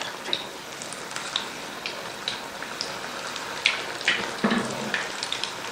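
Garlic pakoras frying in hot oil, a soft steady sizzle with scattered pops and crackles and a few light utensil clinks, fairly quiet and close, no talking.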